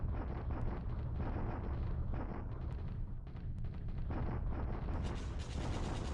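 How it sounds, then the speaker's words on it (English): Artillery bombardment rumbles through the War in the Pacific strategy game, a dense, continuous roar of booming blasts and rolling explosions with a few sharper cracks, loud and steady throughout. "I have about 20 to 30 artillery units here that are going to soften them up"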